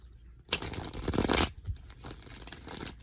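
Tarot cards being shuffled in a long burst of dense riffling and flapping up close, then lighter sporadic card handling and soft taps; no talking.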